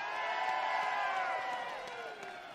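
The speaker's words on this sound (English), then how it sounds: "can we give them one more great big round of applause?" A crowd at a Wisconsin political gathering cheers and applauds elected officials, with whoops and raised voices over steady clapping that stays loud, then gradually thins toward the end.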